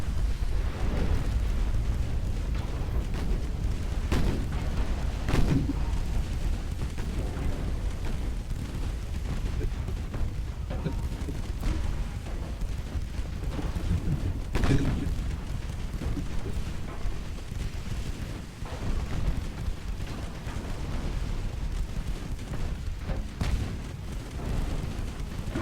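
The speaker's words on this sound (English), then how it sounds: "Ammo detonation on Giacinto." Warship ammunition detonation in the naval strategy game Ultimate Admiral: Dreadnoughts, heard as heavy rumbling blasts and booming bursts over a continuous loud roar of battle, with sharper explosive peaks recurring every few seconds.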